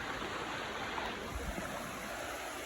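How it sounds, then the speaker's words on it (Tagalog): Strong river current flows in a constant broadband rush of water. It is fairly faint and even throughout, with no voices. "Lakas ng tubig ng ilog."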